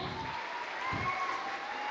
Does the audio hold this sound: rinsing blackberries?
no